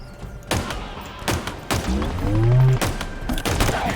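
Pistol gunfire in the video game Halo Infinite, heard as several sharp shots spaced irregularly, loud and close, mixed with other game sounds and a brief tonal effect in the middle.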